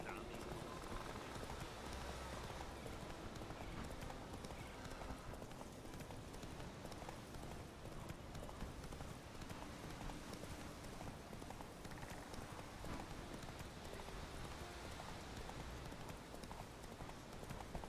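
Roach the horse gallops in The Witcher 3 game, hooves pounding in a fast continuous clip-clop rhythm that runs steadily throughout under background noise.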